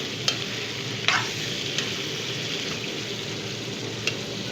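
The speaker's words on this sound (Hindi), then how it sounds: "चिकन को गोल्डन होने तक पकाना है।" Chicken pieces fry in a karahi with a steady, moderate sizzle, while occasional sharp clicks and scrapes from stirring stand out above the even hiss.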